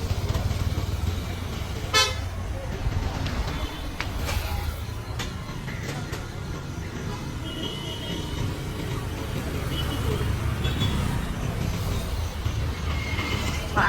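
Vehicle horns honking on a busy city road at night, several short toots over a constant drone of passing traffic, with faint voices in the background.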